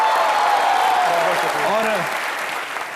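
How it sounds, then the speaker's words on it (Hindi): Loud studio audience applause on a Hindi comedy talk show, a dense steady wash of clapping with a voice talking briefly over it before it fades slightly. "इनके लिए जोरदार तालियां।"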